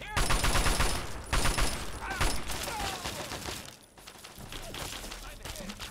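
Automated turrets open fire in the Fallout 3 video game, rapid bursts of loud gunfire crackling in dense volleys that briefly slacken before resuming.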